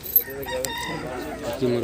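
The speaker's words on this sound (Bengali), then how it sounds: "মোরগ ডাকছে।" A rooster crows once in a free-range riverside village yard, a moderately near call rising through the short stretch amid faint background sound.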